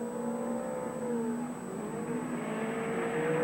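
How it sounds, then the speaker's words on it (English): A Mercedes rally car engine revs hard on wide, open rally stages, its tone rising and falling steadily. It sounds continuous and fairly distant with no speech. "And really getting the Mercedes wound up."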